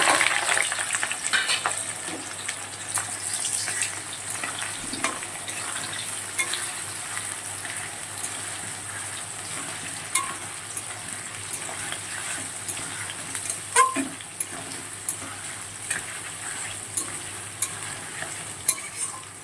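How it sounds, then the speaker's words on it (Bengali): Continuous sizzling of potatoes, onion and garlic frying in oil, with occasional stirring scrapes and clanks of a utensil against the pan, steady and close. "আলুও ভাজা হয়ে যাবে, পেঁয়াজ রসুনটাও খুব ভালো করে ভাজা হয়ে যাবে"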